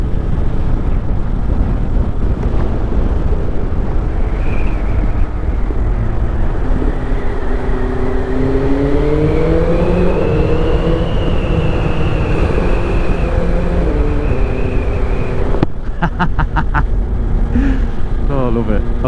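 A motorcycle engine roars through a tunnel on a ride around Church Stretton, loud and booming with rising revs and echoing drone, then sharp popping bursts near the end.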